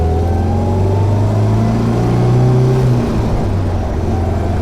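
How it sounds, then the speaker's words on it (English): A 1971 MG B with its original engine revs from inside the car, the engine note rising and falling in smooth sweeps, loud and close throughout. "The early cars just rev so nicely."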